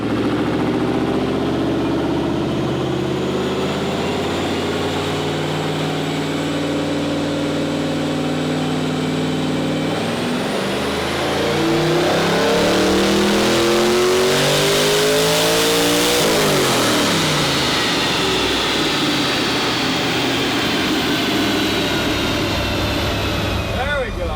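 An LS-swapped Audi Quattro with four diesel turbos revs hard on an all-wheel-drive dyno, its loud engine note climbing and sweeping upward in pitch through repeated pulls, with turbo whine rising over the roar.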